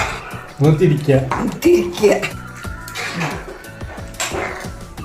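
A spoon stirring and turning chicken curry in a metal pan, giving scattered scraping clinks, while a person talks over it close by.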